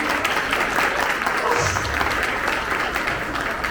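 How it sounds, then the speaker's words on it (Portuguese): Audience applause for school educators in a hall, a loud continuous roll of clapping with a brief voice emerging mid-way. "Olha, aplaudir a eles que eles merecem."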